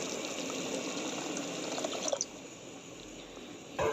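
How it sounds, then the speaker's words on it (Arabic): A cup of water is poured into simmering tomato sauce in a pan, a steady close splashing pour that tapers off with a faint clink at the end. "هنزودها كوبايه ميه كده"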